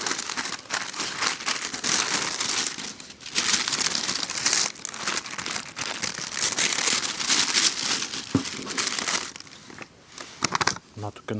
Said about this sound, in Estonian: ma nüüd mõnda aega sõtkun seda siin paberi vahel